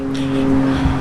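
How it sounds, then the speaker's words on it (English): A car passes by on a street in front of a home driveway, a steady mid-loud engine and tire rush with a droning hum that swells slightly toward the end, no talking. "you see there's cars passing by"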